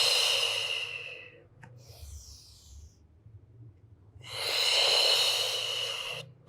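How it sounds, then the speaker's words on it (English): Slow, deep breathing in and out during a Pilates spine mobility exercise, two long airy breaths close to the microphone separated by a quiet pause. "Inhale. Exhale."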